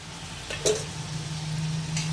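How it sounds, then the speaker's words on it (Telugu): Tempering spices frying in hot oil on a stove, a steady soft sizzle with a sharp crackle near the start and a faint hum underneath, with no talking. "పోపులు వేయించేసుకుందాం."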